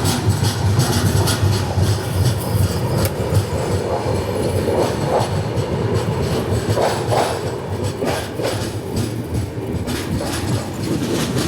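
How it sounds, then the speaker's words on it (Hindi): Passenger trains crossing at Mirkhel railway station, including the Kacheguda–Manmad Ajanta Express, rumbling steadily close by with continuous wheel clatter and rail noise throughout, no voices. "यहाँ पे हमारे ट्रेन की क्रॉसिंग हो रही है 17064 काचीगुड़ा मनबार जंक्शन अजंता एक्सप्रेस के साथ"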